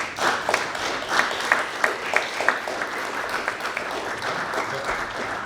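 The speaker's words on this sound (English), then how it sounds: "Big round of applause for everybody today." An audience applauds at the close of a poetry and fiction reading in Bedford, Massachusetts, with steady crowd clapping punctuated by a few sharper individual claps over several seconds.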